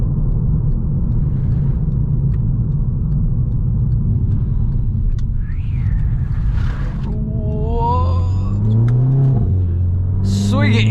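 A Volkswagen Scirocco on a stage remap, driven with short shifts, gives a steady low engine rumble throughout. The note rises in pitch and climbs in revs toward the end without reaching the red line.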